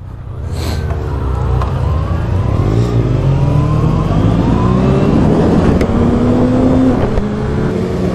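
A Kawasaki Ninja 636 motorcycle engine revs loud and close, climbing steadily in pitch as the bike accelerates and rides off, with a continuous roar throughout.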